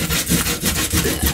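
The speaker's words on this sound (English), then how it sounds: "And just sand out" Hand sanding along the edges of a wooden piece for a home decor craft makes quick, rhythmic back-and-forth rasping strokes, close and fairly loud, with no voices.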